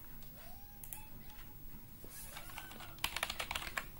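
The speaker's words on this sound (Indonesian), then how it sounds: "Coba kita pakai ngetik bisa." Quick bursts of keystrokes on a USB keyboard, plugged into an Orico FL01 USB 2.0 hub, clatter close up near the end after a quieter stretch of faint room noise and light clicks.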